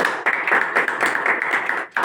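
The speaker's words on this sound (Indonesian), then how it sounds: "Tepuk tangan dulu buat Tuhan Yesus." A church congregation at a wedding blessing applauds, steady close clapping from many hands with a brief dip near the end.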